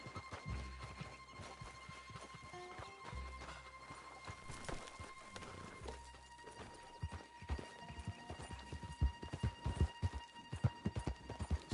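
Horse hooves clip-clop on the ground in the Red Dead Redemption 2 video game, a run of distinct, fairly close hoofbeats that grow more rapid and louder toward the end over a low hum.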